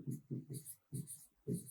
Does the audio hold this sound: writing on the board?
yes